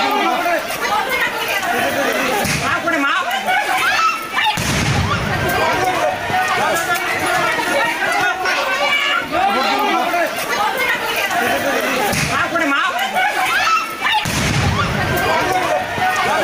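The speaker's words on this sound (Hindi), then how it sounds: "कैमरे में हवाई फायरिंग का पूरा मंजर कैद हुआ है।" Gunshots are fired into the air by security forces at a chaotic polling booth in Cooch Behar during the Bengal election, several sharp bursts breaking through loud, constant crowd shouting and chatter.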